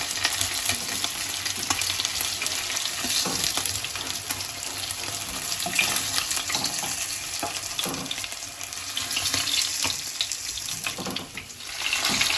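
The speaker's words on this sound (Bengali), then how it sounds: "লাল করে আমি সমস্ত মাছগুলো কিন্তু ভেজে তুলে নেব" Kalbasu fish pieces fry in hot oil with a dense, continuous sizzle and crackle, steady and close, occasionally stirred, with no one talking.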